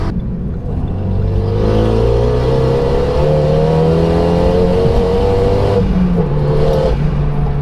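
Renault Megane Clubsport with a limited-slip differential accelerating hard around a roundabout, a loud close engine note climbing steadily in pitch through the gears with a brief dip near the end, no talking over it.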